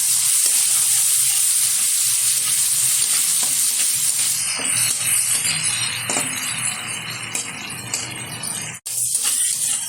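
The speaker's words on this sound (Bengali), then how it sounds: "চিংড়ি মাছটা হালকাভাবে ভেজে তুলে নেবো একটা পাত্রে।" Prawns coated in salt and turmeric fry lightly in hot oil, a strong, continuous sizzle with occasional stirring and a brief clink of utensil near the end.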